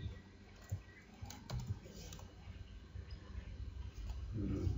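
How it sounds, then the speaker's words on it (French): Keystrokes on a computer keyboard at a desk, a sparse run of soft clicks and taps, close but quiet over a steady room hum. "je vais la recopier en tapant CTRL-V au clavier"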